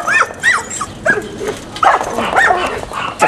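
Dogs yipping and barking in a quick, excited burst, several sharp high calls close by with a little human voice mixed in.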